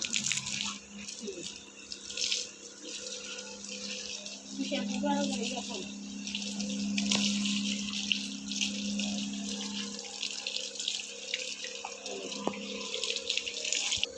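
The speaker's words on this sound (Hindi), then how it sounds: "ये देखिए पानी बड़ा बड़ा करवा रहा है, पाइप लंबा जिधर मर्जी चल जाए मैं नहलाऊँगा" Water gushes steadily from a long hose while a dog is bathed outdoors, a continuous splashing rush running throughout with a person talking over it.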